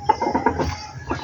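Breeder chickens in a coop give a short burst of soft, rhythmic clucking, several quick close calls in about a second with no talking.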